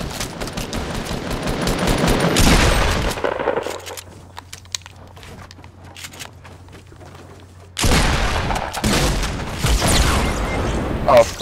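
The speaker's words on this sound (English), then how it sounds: "Spam it with rockets." Rockets exploding in Fortnite: a dense, loud barrage of blasts and gunfire, then a quieter stretch with a low hum, then another heavy burst, with voices talking over it.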